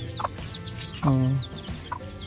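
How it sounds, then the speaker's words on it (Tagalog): Young chicks peep with faint, high, brief chirps scattered throughout, alongside a louder, low clucking call from a chicken near the middle, and a voice briefly exclaims. "ayun mga sisiw nila. Nagsisipulan."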